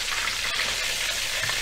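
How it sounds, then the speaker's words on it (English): Chicken flash-frying in hot oil for a Malaysian ayam percik dish gives a loud, continuous, close crackling sizzle with a few sharper pops throughout. "just flash frying it"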